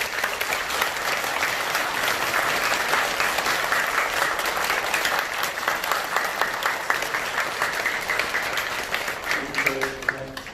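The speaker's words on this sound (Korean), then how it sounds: "다시 한번 감사의 박수 한번 드립니다." Applause from an audience at a Buddhist service for Buddha's Birthday fills the hall in a steady, dense wash of clapping for about ten seconds, tapering slightly at the end.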